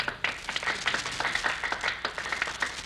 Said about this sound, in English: Jack, the people on the sidewalk are applauding.